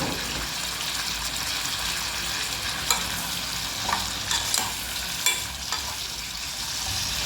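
Cabbage and cauliflower with salt get stirred in a pan, a steady soft sizzle underlying several distinct scraping, clattering strokes of the spoon against the pan at irregular intervals.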